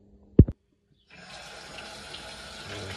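Tap water runs steadily into a sink while pork is washed, starting after a brief clunk and continuing as a close, even hiss.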